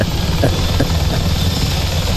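A helicopter in a Battlefield-style video game, a loud continuous rotor thump and engine drone filling the whole stretch, with brief sharp impacts mixed in.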